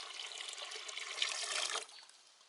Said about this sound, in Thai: แล้วก็เท น้ำเย็นใหม่ลงไปครับ